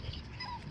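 A Cockapoo puppy gives a brief, faint whimper outdoors, a single short whine heard close by.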